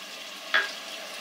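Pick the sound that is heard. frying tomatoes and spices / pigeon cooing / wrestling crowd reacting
frying tomatoes and spices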